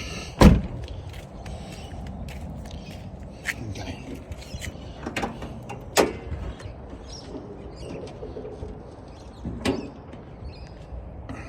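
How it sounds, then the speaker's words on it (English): Bonnet of a Toyota Land Cruiser fitted with a single-turbo 383 small-block Chevy popped open: a sharp, loud clunk near the start, then a few lighter knocks and clicks over a steady low background murmur. "pop the bonnet."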